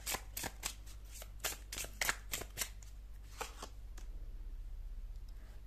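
A deck of tarot cards is riffled and shuffled by hand, giving a run of sharp, close flicking and slapping bursts that thin out into a softer steady rustle.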